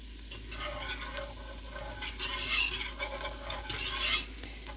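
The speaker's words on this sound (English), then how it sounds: "just let that kind of saute there for just a minute" Garlic sautés in a pan for Fettuccine Alfredo, a steady soft sizzle with occasional spoon scrapes and stirring clinks, close and moderately quiet with no talk.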